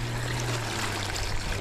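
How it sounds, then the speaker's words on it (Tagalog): Water poured into a cooking pot for sinigang, a soft continuous trickle and splash under a low steady hum. "Atin pong nalagyan ng tubig."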